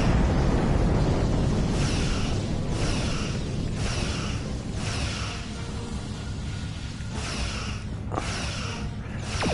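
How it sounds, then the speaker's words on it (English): Repeated large explosions from the Star Trek Online space game, as a Borg ship blows apart in a series of loud booming blasts over a continuous roar. "let's see if we can get away from that explosion"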